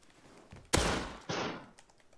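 Gunfire in the video game Rust, two sharp, loud shots about half a second apart, each with a short noisy tail, heard alone without talking.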